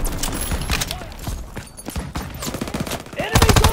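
Gunfire in Call of Duty WW2, rapid bursts of rifle and machine-gun shots crackling up close, with a louder volley of shots at the end and battlefield shouting mixed in.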